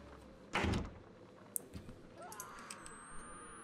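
Knocking on a door in a horror video game, one short burst of raps followed by faint creaks and a thin electronic tone, quiet overall.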